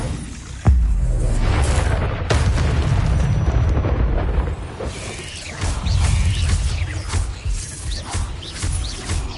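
The Incendio fire spell is cast in Hogwarts Legacy, with a loud, booming burst followed by a roaring, crackling rumble and further impacts, heard with no speech.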